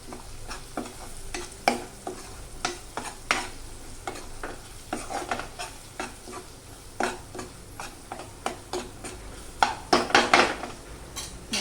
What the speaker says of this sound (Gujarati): હળદર, ધાણા જીરું અને મરચું સ્વાદ મુજબ. ધીમા તાપે જ બધું શેકવાનું.